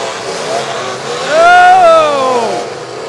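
A demolition derby car revs hard, its engine note climbing in a loud whining swell that peaks and falls away over a few seconds, with crowd noise and commentary mixed underneath.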